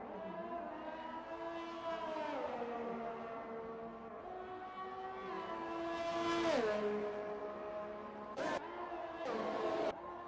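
Ferrari Formula 1 car engine in the F1 2021 racing game at Brazil, a sustained high-pitched whine that rises and falls with gear changes, loud and continuous, climbing near the middle and cut by brief bursts toward the end.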